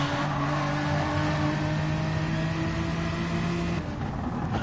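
Race car engines in a FASTR M4 league sim racing game drone steadily at close range, a dense roar with sustained harmonic tones and a slight shift in pitch near the end, with no talk over it.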